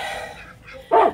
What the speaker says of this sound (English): Quit barking at the cat!